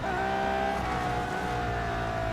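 Tires squeal steadily as a race car brakes hard in the Real Racing 3 game, a sustained high tonal screech layered over continuous engine drone, loud and unbroken throughout.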